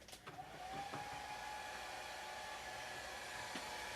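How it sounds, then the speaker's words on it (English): A hair dryer blows steadily and fairly loudly throughout, drying a painted miniature model, a constant whirring rush of air with a faint whine, with a couple of small clicks early on. "So I'm going to use the hairdryer."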